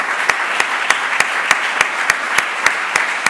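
Audience in a lecture hall clapping steadily, with sharp regular claps over a dense applause wash throughout, moderately close, without talk.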